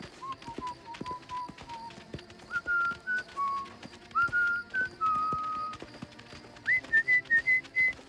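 A cartoon character whistles a wandering tune in short, rising and falling phrases, closing with a quick burst of bright notes, over soft clip-clop and light background sounds in an animated adventure scene.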